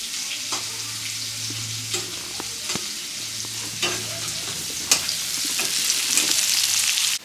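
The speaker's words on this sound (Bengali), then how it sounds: "এটা ভাজা হয়ে গেছে, লাল লাল হয়ে গেছে" Food frying in a pan while being stirred for a Chaitra Sankranti meal: a steady sizzle with repeated scraping stirs that grows louder and brighter toward the end, with no talking.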